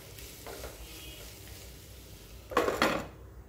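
A lid is set on a cooking pan with two quick metallic clanks close by, after a faint earlier scrape and under a low kitchen background.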